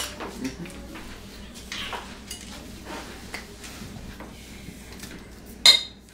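A butter knife spreading Nutella over puff pastry clinks and taps against a dish with light scraping, then ends in a sharp, bright metallic clink.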